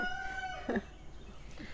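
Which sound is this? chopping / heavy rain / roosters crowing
roosters crowing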